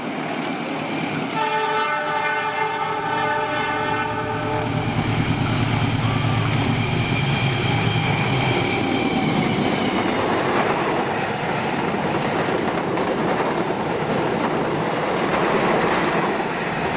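A long passenger train rolls past near Jakarta with a loud sustained horn blast at the start, then a steady heavy rumble and clatter of wheels on rails that continues throughout.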